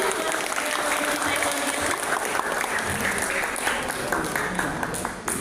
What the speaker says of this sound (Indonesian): kita kasih tepuk tangan yang meriah dulu